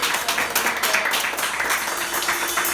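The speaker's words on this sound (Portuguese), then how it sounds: "Aplauda o Senhor que é digno." Congregation clapping during a Sunday worship service in a church, a steady wash of applause that stays fairly even throughout, with a faint sustained tone from music or a voice underneath.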